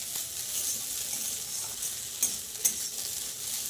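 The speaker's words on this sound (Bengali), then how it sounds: "দেখো কুমড়োটাকে এইভাবে একভাবে নেড়ে যেতে হবে, যাতে কুমড়োটা পুড়ে না যায়।" Pumpkin pieces fried in oil in a pan, a constant soft sizzle with a few sharp scraping stirs of the spatula near the end, close and fairly quiet with no talking.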